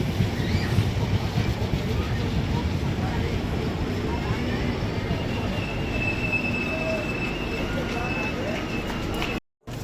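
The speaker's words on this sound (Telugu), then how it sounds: "మన పక్కన ప్లాట్ఫామ్లో వచ్చిన ట్రైన్ కోయంబత్తూర్ నుంచి ముంబై అయితే వెళ్తోంది" A Coimbatore–Mumbai express train on the adjacent platform at Hindupur railway station rumbles steadily with metallic wheel squeals drawn out over the rail noise, while voices carry faintly in the background.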